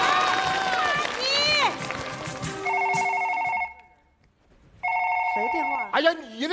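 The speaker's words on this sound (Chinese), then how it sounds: "谁电话？" A telephone rings on a comedy stage show, a steady electronic ringtone repeating in two bursts with a short silent gap, mixed with voices, crowd reaction and music-like tones around it.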